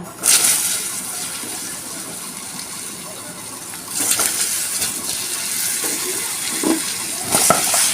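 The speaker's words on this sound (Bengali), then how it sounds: "আলুগুলোতে আমি হালকা করে একটু লবণ আর একটু হলুদ দিয়ে দিয়েছি একটু ঢাকা দিয়ে দিয়ে ভালো করে ভেজে নেব" Potatoes frying in hot oil with salt and turmeric, in oil left from frying fish, making a continuous loud sizzle with occasional stirring scrapes and splashy surges.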